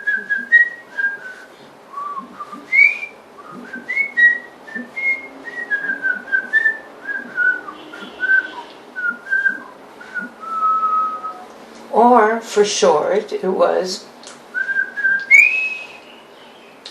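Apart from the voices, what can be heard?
family whistle, whistling the theme line of an opera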